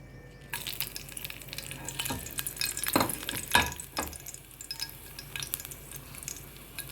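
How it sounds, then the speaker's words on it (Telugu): Tempering spices for a coconut chutney, with fenugreek seeds, cumin and urad dal, sizzle in hot oil. A soft, steady frying hiss is broken by several sharp crackles and pops, and the oil is stirred close by. "పోపు చేసుకుందాం"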